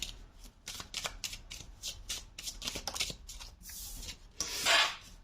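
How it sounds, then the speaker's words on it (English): Thin, slippery paper-like tarot cards being shuffled by hand, a close run of rapid riffling and sliding bursts in uneven rhythm, ending in a louder, longer rasping swish. "These cards are amazing, but they're like paper. They're so slippery."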